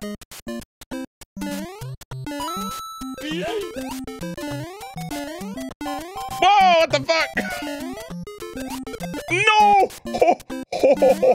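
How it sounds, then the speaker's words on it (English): Metroid-style music plays in a Mario 1 metroidvania fan game, with a fast, busy synth melody and frequent chirpy game effects, and a voice comes through now and then. "I hear the Metroid music."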